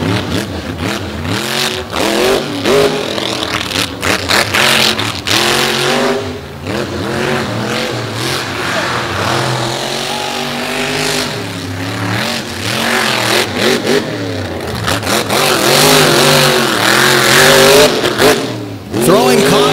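Monster truck Raising Cane, driven by Buddy Tompkins at a beach freestyle show, roars loudly and continuously with repeated rev swells and surging engine pitch, a close, sustained racing-engine din throughout.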